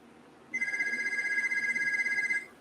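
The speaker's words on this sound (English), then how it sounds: "I have to answer the phone." A telephone rings with a bright, rapid electronic trill lasting about two seconds, close and clear against a quiet room.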